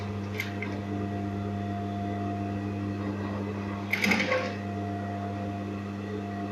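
A sewing machine stitches the original hem line of denim jeans with a steady, loud mechanical hum, easing through a thick seam with a brief clatter partway through.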